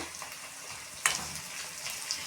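Onions sautéing with a pinch of salt in a pan for a cauliflower egg stir-fry, heard as a soft, steady sizzle with a brief stirring scrape partway through.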